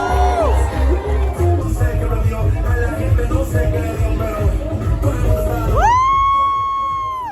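Crowd at a beach fire show party in Thailand, a loud continuous roar of cheering, whoops and shouts, with rising whistle-like tones near the end.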